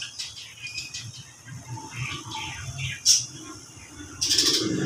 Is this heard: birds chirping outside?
yes